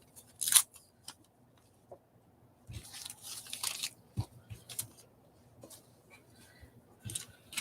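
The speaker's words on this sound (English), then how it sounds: "You love the sound of tearing paper?" Magazine paper being torn and crumpled in bursts of rough, crinkly ripping, some short and sharp, others longer, close up with quiet gaps between them.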